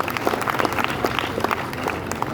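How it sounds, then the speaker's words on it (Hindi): A community gathering of the Suthar samaj in Jodhpur breaks into a warm round of applause for the community elders, with clapping from a sizeable crowd that stays steady and close for the whole stretch. "उनके लिए एक बार जोरदार तालियों से स्वागत करें।"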